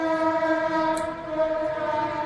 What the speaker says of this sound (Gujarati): એવો ટ્રેન આવી છે, ચાલો આપણે ટ્રેન પાસે લઈ જઈએ તમને.